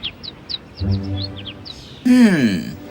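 A small bird chirps in quick, high repeated notes, then a voice speaks briefly and another voice begins talking over the end.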